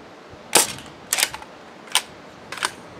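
A Nerf foam dart blaster fires four sharp shots in quick succession, each a crisp snapping pop with a short rattle, spaced about half a second apart against a quiet background.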